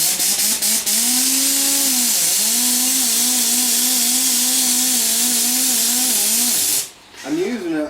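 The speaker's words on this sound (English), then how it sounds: "Run it around my buffing head just a bit." A buffing wheel spins steadily with polishing compound applied under a light touch, giving a loud, continuous whine with slight pitch dips as the workpiece meets it; the motor winds down near the end.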